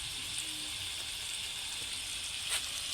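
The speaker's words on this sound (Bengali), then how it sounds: "মাংসটা ভাজা ভাজা করে নিব" Meat and potatoes fry in a pan with spice masala, producing a continuous, even hiss of sizzling oil close by, with a small flare near the end.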